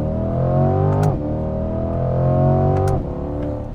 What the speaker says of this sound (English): listen to those shifts, it's like flawless